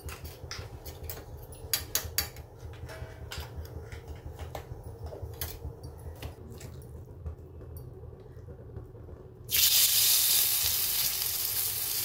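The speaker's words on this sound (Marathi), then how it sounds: "आता हे गरम झालं की आपण हे मिक्स केलेलं पीठ टाकून देऊ त्याच्यामध्ये." Appe batter hitting a hot greased appe pan, a steady close sizzle with small crackles that suddenly swells into a louder, hissing fry partway through.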